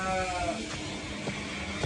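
Sheep, a mix of ewes and lambs, bleat continuously at a livestock bazaar; a steady layered chorus of calls fills the short stretch, with no talk over it.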